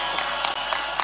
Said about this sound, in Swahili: Pigieni yeye makofi.